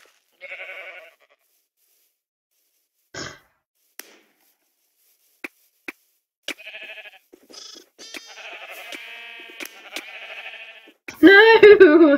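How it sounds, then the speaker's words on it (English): Blocky sheep in a Minecraft multiplayer arcade match bleat several times in short, clear, spaced calls, mixed with game clicks and chopping taps. "Get a sheep."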